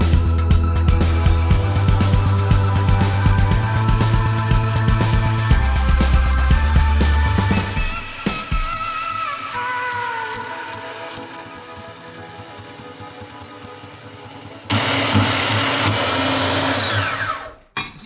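A Portaband portable bandsaw cuts through 1/8 inch metal with a loud, close, grinding whine and choppy chatter from the blade. The motor then winds down and the cut resumes briefly near the end, with no talking.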